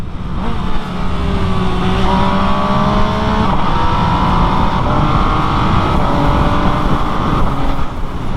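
An MV Agusta Dragster motorcycle engine drones loudly, its pitch stepping down in stages as it downshifts with an automatic clutch, with wind rush and a faint voice underneath.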